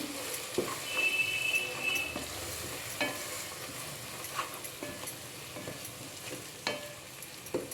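Ingredients for a Telugu-style fish curry with tamarind are fried and stirred in a pan, giving a steady soft sizzle with occasional scraping stirs and light clicks, alone without speech.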